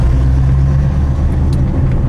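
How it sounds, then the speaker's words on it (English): A TVR sports car with a 5-litre Rover V8 engine drives along in fourth gear, its deep, steady engine rumble loud and close with a strong low drone throughout and no talk. "It's just a happy 5-litre TVR."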